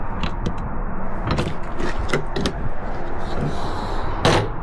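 Mechanical clunks and latching sounds of a 2026 Alliance Avenue 35RKS RV door being worked, several sharp knocks and a louder slam near the end, close by.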